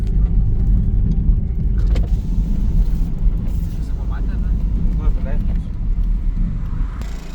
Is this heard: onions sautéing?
no